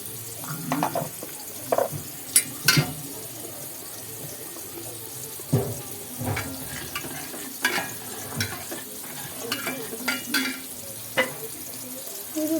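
Food fries in a pan on a home stove with a soft background sizzle, broken by scattered louder clinks and stirring scrapes at uneven intervals.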